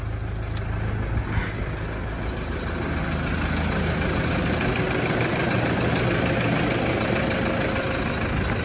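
A Toyota Landcruiser Prado 120 idles steadily after its starter motor was replaced, a constant low engine rumble at an even level throughout, close by and with no talking.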